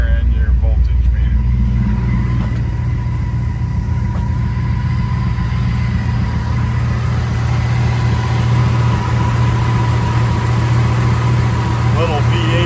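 A 1962 Buick Special's small aluminum V8 idles steadily and loudly up close, a constant low rumble throughout.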